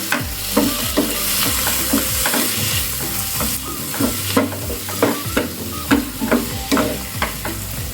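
Chopped tomatoes with kasuri methi frying and being stirred in a pan over a low gas flame for palak paneer, a steady sizzle broken by regular scraping strokes of a spoon, close and alone.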